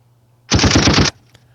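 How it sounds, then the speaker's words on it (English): A loud, close burst of rapid automatic gunfire, a sound effect lasting about half a second with tightly spaced shots, followed by a faint click against low background hum. "Okay, I like the gunshots."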